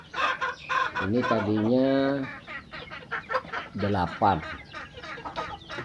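Chickens being fed while queued for their turn at the feed, clucking in a busy, overlapping chorus close by, with someone talking over them.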